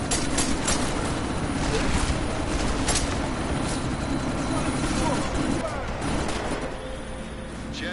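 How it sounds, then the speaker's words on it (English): A helicopter's rotor and engine roar loudly and continuously as it prepares to take off in Deus Ex: Mankind Divided, with sharp bursts of gunfire and voices in the mix. "That chopper's about to take off!"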